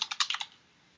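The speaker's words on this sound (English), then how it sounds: "I'm going to type in Pradeep" A name typed on a computer keyboard: five or six quick, crisp keystrokes in a short burst, close and clear, then quiet.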